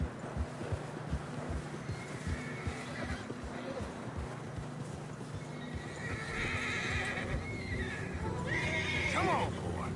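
Horses whinny and neigh in Red Dead Redemption 2 while hooves plod through deep fresh snow on a narrow trail, a steady crunching gait under game music, with louder whinnies toward the end and a voice talking now and then.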